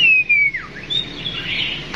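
A cage bird in a Vietnamese pet bird shop gives a loud, clear whistled chirp that slides downward and then rises. Softer tweeting follows at close range, with no talking.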